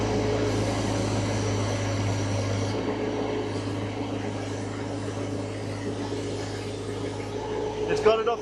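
The engine of a mini lifting machine straining with about 900 kilos on it gives a steady, loud drone that holds throughout at constant revs, ending in a brief clatter.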